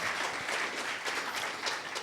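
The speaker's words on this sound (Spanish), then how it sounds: "Denle un fuerte aplauso al Rey, por favor." A crowd applauds with steady, dense clapping that fills the whole moment, no voices over it, during a Christian sermon.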